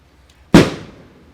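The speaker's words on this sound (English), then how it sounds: "Fireworks and they're freaking the cat out." Fireworks going off outside: a single loud sharp bang that rolls off into a fading rumble over about a second, alone without talk.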